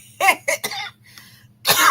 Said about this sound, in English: I can't shake this dry cough.